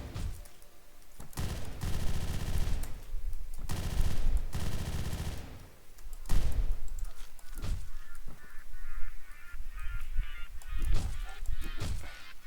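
Repeated bursts of rapid gunfire in a Hotline Miami cyberpunk custom campaign, loud and close, with short gaps between volleys.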